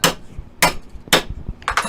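Three sharp metal strikes from a hammer tapping a hole mark into a piece of silverware for a wind chime, evenly spaced about half a second apart, close and loud, with a quicker double knock at the end.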